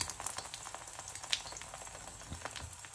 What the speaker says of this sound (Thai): ร้อนแล้วใส่เลยจ้า ทอดไข่เจียวหอมมากโผล่ลงปุ๊บหอมปั๊บเลย